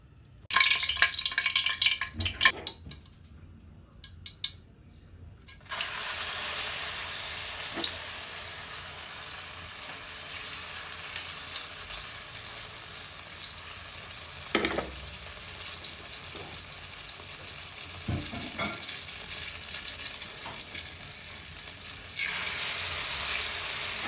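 Food fries in a heated pan with a steady, close hiss and sizzle that starts after a few seconds of clattering and stirring, continuing evenly with occasional pops and scrapes.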